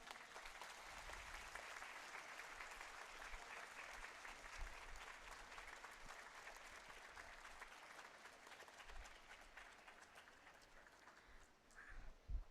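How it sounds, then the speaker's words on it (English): Audience applause after a musical meditation session at a live event, sustained dense clapping from a large crowd, fairly faint and continuous, tapering slightly at the end. "Let's thank them again with a huge round of applause."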